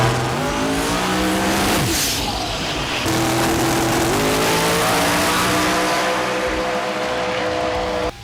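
A loud drag race car engine, running with no radiators or cooling system, runs and revs hard, its pitch climbing and dropping in sweeps, with a brief tire squeal near the start and no talk.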